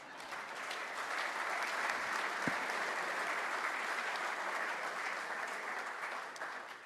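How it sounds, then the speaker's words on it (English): Sustained applause fills a hall at a college basketball awards banquet in St. Louis, a dense, even roar of many hands clapping that holds steady throughout, fairly distant and soft. "Give yourselves a round of applause."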